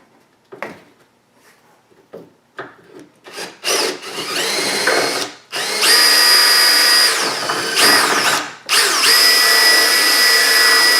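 An electric drill enlarging a hole in wood: short whirring bursts at first, then long loud high-pitched runs with grinding and a couple of brief pauses, close up.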